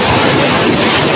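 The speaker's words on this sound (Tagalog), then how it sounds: "Binasa ako ng alon na to ah." Loud, close rushing surf noise filling the whole moment, with heavy wind buffeting the microphone, as an ocean wave crashes over at Bucana beach.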